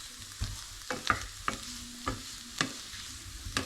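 Potatoes frying in olive oil with salt, pepper, paprika, garlic and onion powder, a steady soft sizzle broken by sharp scraping stirs of a utensil against the pan at irregular intervals.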